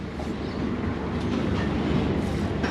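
Steady, dense low rumble of a train or similar heavy vehicle rolling past nearby, continuous throughout with no speech.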